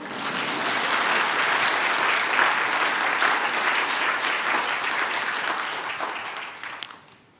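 A church congregation at a Jubilee sermon breaks into sustained applause, a dense, loud wash of many hands clapping that holds steady for several seconds before fading out.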